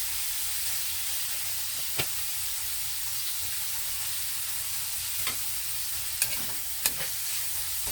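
Vegetables being stir-fried in cooking oil for a home-style Filipino ginisang gulay with hotdog: a steady, close sizzle and hiss with a few sharp utensil clinks against the pan, no talking.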